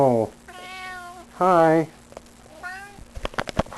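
A cat meows several times in drawn-out, wavering cries, loud and close, with a brief spoken greeting at the start and a few sharp clicks near the end.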